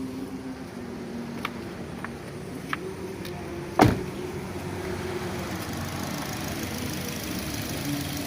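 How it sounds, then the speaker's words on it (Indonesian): The petrol engine of a 2013 Suzuki Ertiga GX with a manual gearbox idles with a steady, quiet hum. A single sharp click comes partway through, and there is no talking. "Untuk suara mesin ya seperti ini ya."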